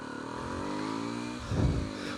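A 2020 SWM Varez 125 motorcycle engine drones steadily while being ridden, with a brief louder surge of revving about two thirds of the way through; close and continuous, no voices.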